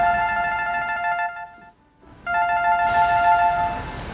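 A telephone rings with a bright electronic ringtone in two bursts separated by a short pause, loud and close with no voices over it.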